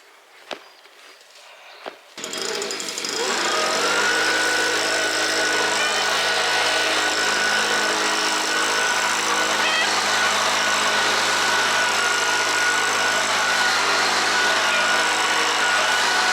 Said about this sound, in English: Then we'll just leave this stuff right here and then Chris will till it back in.